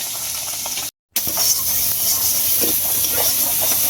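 Cumin and spices fry in a pan with a loud, hissing sizzle and occasional crackles, broken by a brief total dropout near the one-second mark before the steady sizzle resumes.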